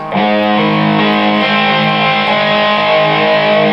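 A distorted electric guitar plays a short sustained riff from a song, loud and close, with notes shifting every second or so.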